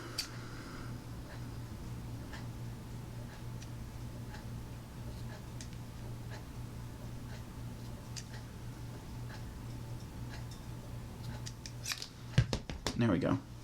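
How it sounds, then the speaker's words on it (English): Soft snips of scissors trimming tassel pieces tick quietly over a low background hum, followed by a few louder, closer clicks and rustles at the end. "I just take my scissors"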